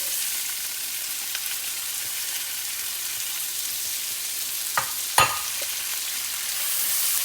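Chopped small onions frying in a pot for langar-style dal, a steady close bright sizzle throughout, with a couple of sharp spoon clacks against the pot near the end.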